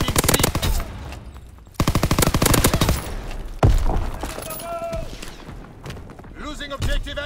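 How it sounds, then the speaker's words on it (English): Bursts of automatic gunfire in a World War II video game battle: dense rapid volleys come in waves, loud and close, with shouted voices in between. "Keep firing!"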